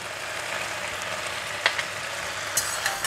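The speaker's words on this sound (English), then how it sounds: "Just give it a stir. Kangkung don't require to cook too long." Kangkung (water spinach) stir-frying with dried shrimp and oyster sauce gives a steady close sizzle, broken by a few sharp spatula taps against the pan near the end.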